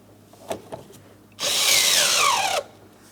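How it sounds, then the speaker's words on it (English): A power driver with a socket and extension spins anchor bolts into a door panel on a 2004-2008 Pontiac Grand Prix, giving one loud, steady whir of just over a second after a couple of faint taps. "To start these in, you're going to want to have them on your socket with an extension."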